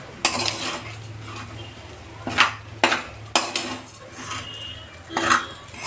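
Sabudana khichdi being sautéed in a pan over a low flame: a spoon scrapes and knocks against the pan in several distinct strokes over a faint background sizzle, with no voices.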